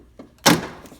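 A single sharp pop as a plastic trim clip releases from a 1992-1997 Ford truck door panel, close and clear, preceded by a faint tap and followed by a brief rattle.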